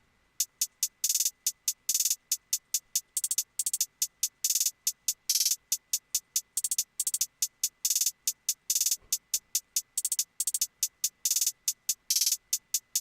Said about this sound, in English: So the next sound we did was we added a hi-hat.